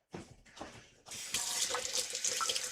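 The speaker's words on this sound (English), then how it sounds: "let me give my hands a rinse" Hands being rinsed under a running kitchen tap: after a few soft splashes, the water flow opens up into a steady hiss of stream hitting hands and sink, quiet and close.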